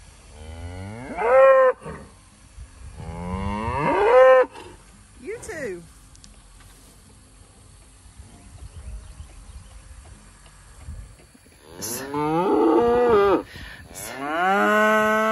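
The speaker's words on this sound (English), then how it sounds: "So we're out here in the pasture. We're gonna move our cows." Cattle in a pasture on a homestead, being moved in rotational grazing, let out several loud, drawn-out moos close by, with quieter gaps between calls.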